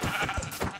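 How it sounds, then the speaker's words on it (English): Sheep bleating in Minecraft, a short, steady blocky game bleat that fills the whole moment, close and clear with no talking over it. "Okay, we killing the sheep, bro."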